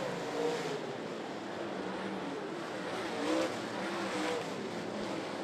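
Super late model race cars circling Ponderosa Speedway, a faint distant engine drone that swells a couple of times as cars pass down the back straightaway, heard alone without talk.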